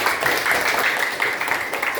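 A classroom of students claps together, a dense, steady wash of applause that fills the room at moderate loudness, with a few voices faintly mixed in.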